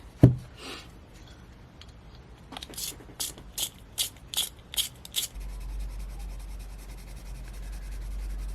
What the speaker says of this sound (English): I need to sharpen it though.